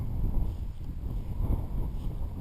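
Strong wind gusting before typhoon No. 18 at a paraglider launch, a steady low roar of buffeting air on the microphone that surges and dips throughout.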